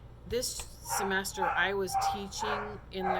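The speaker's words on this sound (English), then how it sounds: "I'm sorry about my dog." A dog barks and yips in several short bursts close by, mixed in with a woman's steady indoor speech.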